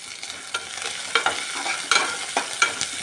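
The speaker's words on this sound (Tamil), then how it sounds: "இப்போ வெங்காயம் பச்சை மிளகாய் நல்லா வதங்கிடுச்சு." Onions and green chillies fry in oil in a pan while being stirred, giving a steady close sizzle broken by intermittent scraping stir strokes, with no voices.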